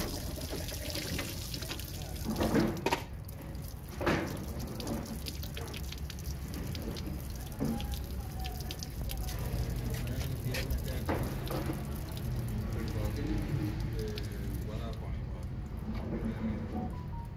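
Old rusty coolant drains from the lower radiator pipe of a car, a continuous trickling and dripping of liquid heard with occasional small splashes and faint background noise.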